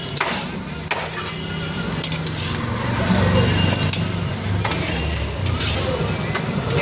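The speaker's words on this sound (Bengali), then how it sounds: "চাউমিন যত ভাজবেন তত ভালো হবে।" Chow mein frying in a pan with a steady close sizzle and occasional stirring scrapes, continuous throughout without speech.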